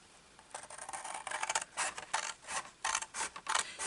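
Scissors snip through paper card while a stamp storage box is being made: a run of short, crisp cutting bursts in quick succession that grow firmer and more regular toward the end, close and fairly quiet, with no talking.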